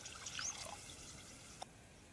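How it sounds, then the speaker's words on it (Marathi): Water is poured into a thick, oily fish curry gravy cooking at a riverside in the village style. The pour makes a faint, brief trickle, quiet and close, with no voices. "आता टाकून घेऊ त्याच्यात पाणी."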